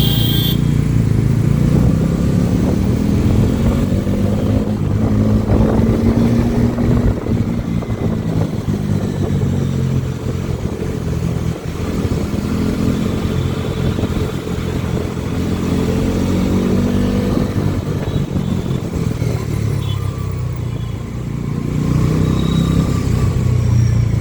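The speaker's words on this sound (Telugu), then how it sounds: "ఆ బైక్ స్ట్రైట్ వెళ్తట్టుంది" A motorcycle riding straight along a road, its engine a steady, loud drone that rises and falls slightly with throttle throughout, without speech.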